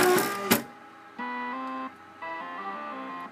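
A Romeo RB-25 braille embosser resets its carriage to home position: a couple of sharp mechanical clacks, then two steady stepped motor whines that rise and fall in pitch, close and clear with no talking.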